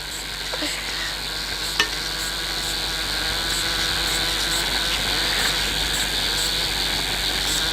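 Onions, ginger and garlic frying in a pan, a constant close sizzle with the scrape and clink of stirring, one sharper knock near the start.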